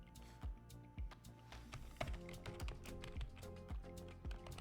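Computer keyboard keys clatter as code is typed, a quick irregular run of close, crisp clicks and taps alone without speech.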